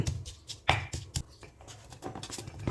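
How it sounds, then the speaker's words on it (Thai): Boiled red chillies pounded in a mortar for a Thai eggplant dip, a close series of irregular dull thuds and knocks with scraping between strikes. "พริกที่เราไปต้มอะค่ะก็เอามาโขลกรวมกัน"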